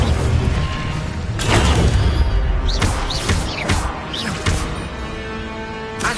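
Incendio fire spell cast in Hogwarts Legacy, a few sharp whooshing bursts and thuds over game ambience, with short swept magical tones trailing between the hits.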